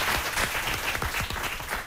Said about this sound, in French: Mais néanmoins, on applaudit aussi Jafar, s'il vous plaît